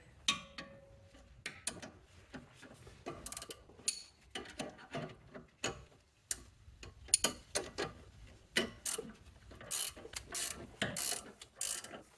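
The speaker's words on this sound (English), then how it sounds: "finishing up the tightening process here." A hand ratchet tightening a sway bar link on a BMW X3, with quick bursts of close metallic clicking separated by short pauses, repeated throughout.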